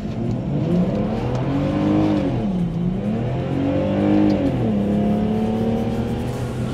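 A chip-tuned car engine idles then revs up and down several times, the pitch rising and falling in long swells, loud and close.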